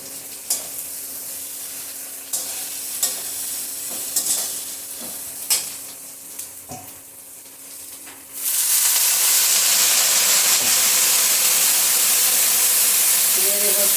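Water poured into ground peanut paste cooking in a pan erupts into a loud, steady sizzle and steamy hiss, following several seconds of quieter stirring scrapes.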